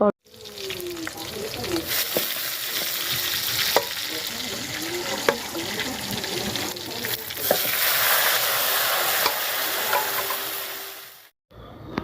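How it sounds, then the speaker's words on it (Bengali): Bitter gourd frying on a home stove, a continuous sizzle with occasional clinks and stirring, a brief running-water sound mixed in, faint background voices and a sudden cut near the end. "আমি ওইদিকে করলা ভাজিটা চুলায় দিয়েছি"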